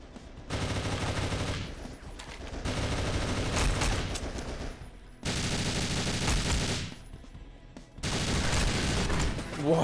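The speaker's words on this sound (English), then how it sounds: "What is with the explosion? Are those barrels explosive?" Explosive barrels blow up in the Goldeneye: Source shooter game, a series of loud bursts and booming blasts in long sustained clusters with short gaps, mixed with gunfire.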